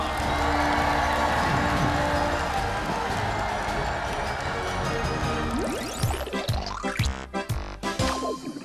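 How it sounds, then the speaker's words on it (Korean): A studio audience at a children's TV show claps and cheers in a broad, loud wash, then the crowd noise gives way to bright musical sounds and sharp percussive hits. "박수와 함성!"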